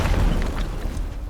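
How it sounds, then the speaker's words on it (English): A TNT charge detonates to blow a lock off in the video game Teardown, a deep booming blast with a rumbling low tail that fills the whole short moment, loud and close. "Let me try to blow this lock off using the TNT."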